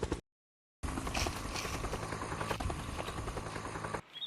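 A helicopter flies over the Western Ghats mountains near Tirunelveli, its rotor and engine a loud, steady, close roar interrupted by a brief dropout.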